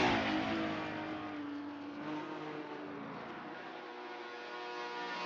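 Race car engine at an endurance exhibition event, a steady loud drone that holds throughout, rising slightly near the end as the car closes in from behind.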